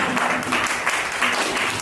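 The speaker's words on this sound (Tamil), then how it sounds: "நீங்களாச்சும் கைதட்டுங்க" An audience claps during a church prize distribution, a brief burst of close, steady applause with faint voices beneath it.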